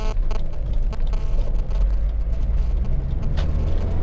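A Mazda MX-5 2.0 Sport's engine runs steadily and loudly up close, a continuous low rumble with no talk over it.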